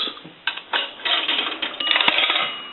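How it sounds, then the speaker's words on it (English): A nickel drops into a Western Electric 233G three-slot payphone, sending a series of sharp metallic clicks and clatters through the coin chute, then a brief ringing bell strike near the end, close and loud, with no speech. "Nickels will ring the bell once."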